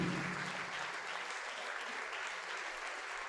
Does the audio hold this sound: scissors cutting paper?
no